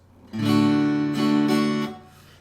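A short guitar strum pattern of an eighth note and two sixteenth notes: one longer chord followed by two quick strums, ringing clearly with no talking.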